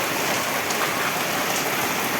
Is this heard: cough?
no